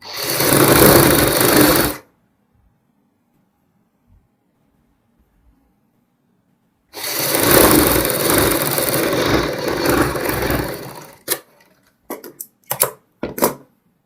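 A sewing machine stitches the side seam of a kurti in two bursts: a short run, a long pause, then a longer run that breaks into several quick stop-start stitches at the end.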